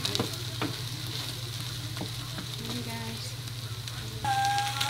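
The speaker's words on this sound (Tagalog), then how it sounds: "Hinaan natin ng konti para maluto yung hotdog." Hotdog pieces for sisig fry in a pan over lowered heat, giving a constant close sizzle with occasional clicks of stirring, and a steady hum running beneath throughout.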